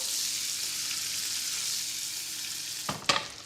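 Fish coated in breadcrumbs and dill fries in a pan of hot butter, giving a steady, close sizzle that runs throughout, with a couple of sharp utensil clinks and scrapes near the end.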